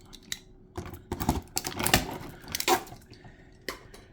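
Scissors snip through a plastic retaining strip in figure blister packaging: a few crisp, close cuts and crinkles of plastic, heard alone without talk.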